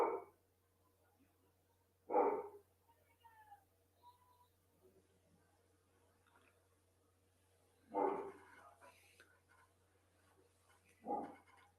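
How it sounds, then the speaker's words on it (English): A dog barks indoors in four separate loud bursts spaced several seconds apart, with near silence and a low steady hum between them. "The doggo is ticked off."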